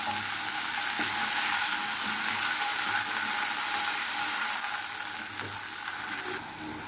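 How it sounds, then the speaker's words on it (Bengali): Ginger-garlic paste frying in a pan gives off a steady, loud sizzle after a little water is added, a dense crackling hiss that runs the whole time with no voices. "এখন দিয়ে দিচ্ছি সামান্য পরিমাণ একটু পানি।"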